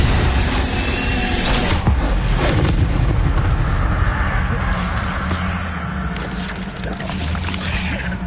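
Incendio fire spells crackle and boom in Hogwarts Legacy, several loud bursts in the first few seconds, then a lingering roaring rumble that fades and swells again.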